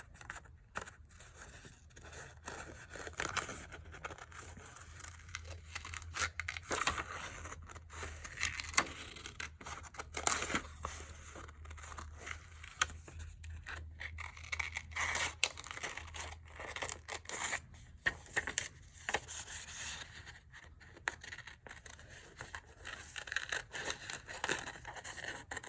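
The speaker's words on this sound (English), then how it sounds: "you can always cut off that extra paper and keep working from there." Scissors cut through paper in irregular snips while the sheet is turned and rustled, with crinkling and tearing close up and no voices.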